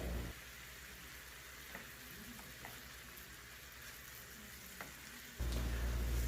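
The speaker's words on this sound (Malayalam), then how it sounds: "ഇനി അതൊന്നോണം വേഗം മിക്സാക്കി നമുക്കൊന്ന് വറ്റിച്ചെടുക്കാം കേട്ടോ." Spiced masala sizzling and being stirred down in a pan while making Arabic pie boats, a steady quiet fry with faint scraping, ending in a louder burst of sizzle.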